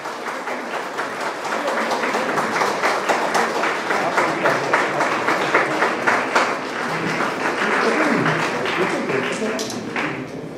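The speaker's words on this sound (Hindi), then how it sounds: "एक बार जोरदार तालियों से स्वागत करिए" An audience at a national seminar award ceremony applauds, a dense, steady wave of clapping lasting about ten seconds with faint voices mixed in.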